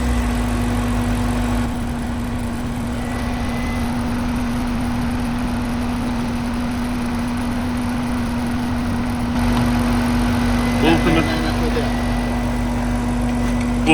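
A rear-wheel-drive car at a winter slalom event runs with its engine on, giving a steady, continuous idling hum close by throughout.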